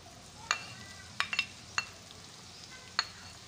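Onions dropped into hot oil in a pan, a faint steady sizzle broken by several sharp clinks and scrapes of a utensil against the pan.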